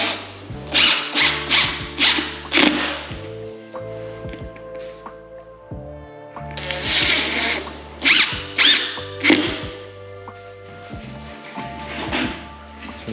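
Cordless power drill driving screws while fitting a battery smart lock and night latch to a door, heard in repeated short whirring bursts with ratcheting clutch clicks and brief pauses between screws.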